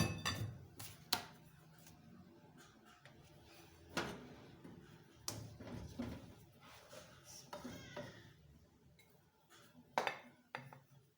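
Makhaddi halwa scooped from a cooking pot into a serving dish, with scattered metallic clinks and scrapes of a spoon against pan and plate, fairly close and quiet.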